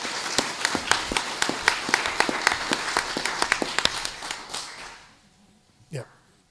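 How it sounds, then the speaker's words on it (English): Audience applause at a school board meeting: a crisp run of many individual hand claps for about four seconds, then tapering off into quiet, with a short vocal sound near the end. "So a big round of applause for them."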